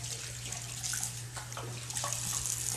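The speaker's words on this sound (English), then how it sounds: "Let me rinse off my hand." Running tap water splashes over a hand being rinsed under a faucet, a steady close wash of water with a low hum beneath and a few brief splatters.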